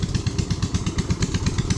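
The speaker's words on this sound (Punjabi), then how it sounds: "ਜਨਰੇਟਰ ਲਾ ਕੇ ਪਾਣੀ ਕੱਢ ਰਹੇ ਨੇਗੇ" A generator runs to pump floodwater out of a paddy field, giving a steady, close, rapid chugging beat with a rough mechanical clatter.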